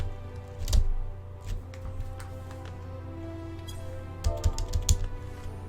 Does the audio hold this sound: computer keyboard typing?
yes